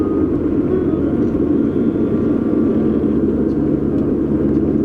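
A Mini Cooper drives along with a steady low engine and road rumble, a continuous droning hum heard from inside the car with no talking.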